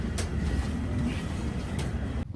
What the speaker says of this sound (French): Là on est dans le métro.